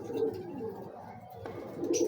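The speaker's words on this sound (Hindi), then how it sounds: "मज़ा लो परिंदे का, बड़ा तगड़ा कबूतर" Cooing of a large, sturdy big-breeder pigeon in a loft, low soft coos repeating close by in a steady rhythm with a faint rustle between calls.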